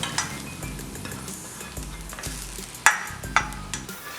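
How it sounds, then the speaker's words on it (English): A spoon stirs caramelized onions into a thick whiskey barbecue sauce in a pot, giving a soft, steady scraping and slosh with a faint sizzle and two sharp clinks of utensil against the pan. "Now I got my onions caramelized like I want them. I'm going to actually put them in the sauce."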